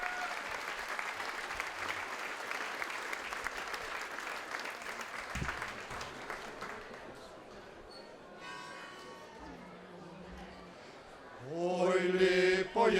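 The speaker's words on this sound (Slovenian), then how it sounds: "Ja, tudi njim lahko zaploskate" Audience applause for performers at a harvest festival play, a long run of steady clapping that thins out, followed by voices and the start of singing.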